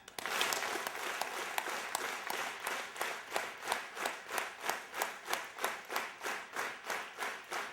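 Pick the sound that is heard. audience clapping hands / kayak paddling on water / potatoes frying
audience clapping hands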